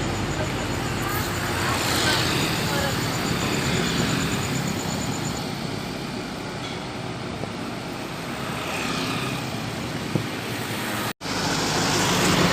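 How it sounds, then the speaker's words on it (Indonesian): A Rapi bus with an Aplova engine rolls past on an Indonesian road, its engine hum and tyre roar swelling among other traffic, with a brief horn-like tone early on and a short cut near the end. "terpantau unit bus Rapi dengan mesin Aplova"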